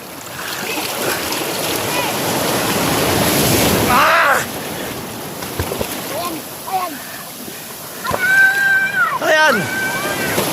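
Strong ocean surf at Malabrigo, Batangas, Philippines, crashes and roars loudly near the shore, with sloshing and splashing throughout and voices calling out over the waves.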